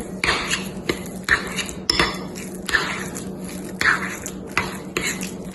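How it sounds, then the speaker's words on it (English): Vegetarian lasagna filling with oregano and basil stirred in a bowl: a spoon clinks and scrapes against the bowl in repeated rhythmic strokes, close and clear. "we're just going to mix it all together"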